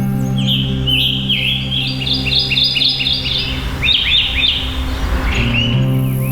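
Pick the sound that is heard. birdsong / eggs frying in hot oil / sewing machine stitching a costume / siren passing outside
birdsong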